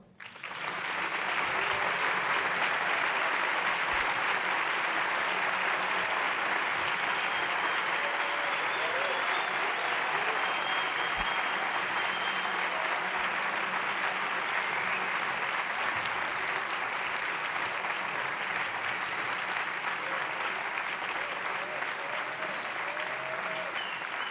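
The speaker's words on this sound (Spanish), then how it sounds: "por favor, un aplauso" Sustained, full-room applause from an audience at an EOI academic diploma and closing ceremony, starting abruptly and holding steady and even for over twenty seconds without talk.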